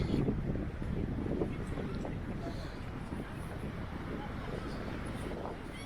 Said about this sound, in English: The wind is a bit challenging, actually, while you're walking.